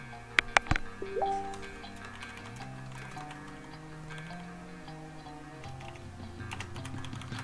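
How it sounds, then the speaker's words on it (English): Rapid clicking of a computer keyboard being typed on throughout, with a few louder key strikes early, over low background hum and tones from a live-streamed powerlifting bench press meet. "I was typing away"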